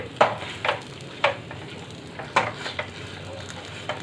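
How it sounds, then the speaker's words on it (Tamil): Moong dal halwa with cashews being stirred in a pan, a few scraping spoon strokes and soft clatters spaced irregularly over a faint background hiss, with no voices. "சேர்த்துட்டு நல்லா கலக்கிட்டு நம்ம இறக்கிடுவோம்"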